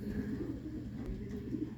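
Racing pigeons cooing nearby, soft low rolling coos repeating in a gentle rhythm, fairly faint and heard alone with no talk.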